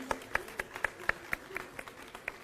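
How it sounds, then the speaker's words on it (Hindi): Scattered, loosely rhythmic claps from a small group at a senior citizens' honour ceremony in a hall, each clap distinct and fairly close, thinning out toward the end. "जोरदार तालियां।"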